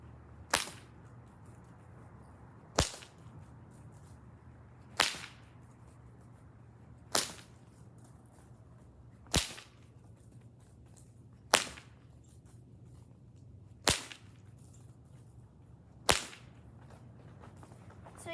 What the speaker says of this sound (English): what's making this sound is the tip of the whip